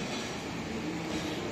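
Metro train pulling into a station, a steady loud rumble of rail cars with wheel and track noise filling the whole short stretch, no talk.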